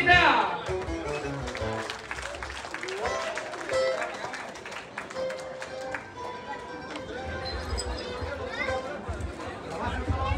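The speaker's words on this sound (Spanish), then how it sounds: "¡Fuerte los aplausos, hombre, para la virgencita!" A crowd claps for the Virgin at a patron saint festival in Santa María La Tortolita, Oaxaca, a steady wash of applause and chatter lasting several seconds, with voices and some whistles mixed in.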